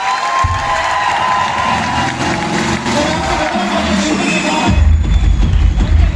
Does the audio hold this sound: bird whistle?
no